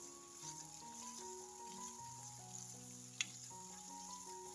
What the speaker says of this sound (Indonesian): Tumis bawang dan juga jahenya hingga layu dan tercium bau harum